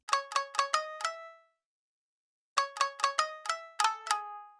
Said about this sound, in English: It's this AX Shamisen.